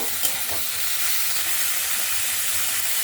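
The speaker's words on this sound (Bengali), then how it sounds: "এর মধ্যে আমি এবার সবজিগুলো দিয়ে দেব। এটা আমি ভালো করে নেড়ে নেব।" Vegetables fry in hot white oil as they are stirred, making a loud, continuous hiss and sizzle with a few faint scrapes, and no talking.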